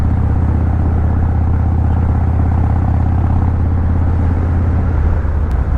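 A Harley motorcycle on an open road ride carries a loud, steady engine rumble with constant wind roar, unbroken throughout and heard from the rider's position, with no voices.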